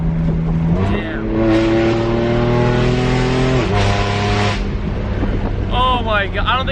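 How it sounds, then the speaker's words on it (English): A BMW F82 M4 with an Armytrix valvetronic exhaust revs loudly and continuously up close, its engine note climbing and dropping through sharp rev changes, with a person's voice briefly heard near the end. "The downshifts sound amazing."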